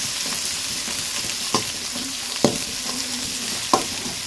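Onions, carrot and capsicum stir-frying in a pan for veg hakka noodles: a constant loud sizzle with a few sharp spatula scrapes and knocks spaced through it, close up.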